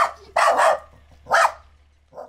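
A guard dog in a village in Belarus's Mogilev region gives three sharp, fairly close barks: a double burst, a single bark, then a softer short one, with quiet gaps between.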